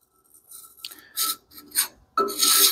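Hand tool scraping carbon and old head gasket material off a metal surface, giving several short, harsh rasping strokes in an uneven rhythm, close and fairly loud.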